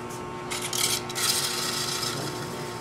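80-grit sandpaper rubbing the inside of a spinning wooden turning on a lathe, a close rasping scratch in short bursts over the lathe's steady motor hum.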